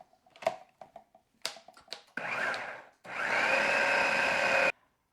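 Lamb meatball mixture with onion soup mix being combined, a few short clicks and taps followed by two stretches of steady, fairly loud whirring from a mixing appliance, the second one longer, with no voices.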